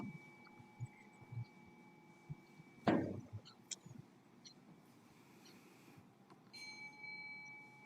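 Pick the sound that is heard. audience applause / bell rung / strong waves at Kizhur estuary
bell rung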